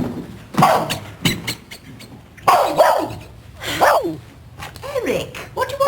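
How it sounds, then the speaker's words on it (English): A dog barks in several sharp bursts spaced across a few seconds, close and fairly loud, with a person talking in between. "You mustn't bark at people like that."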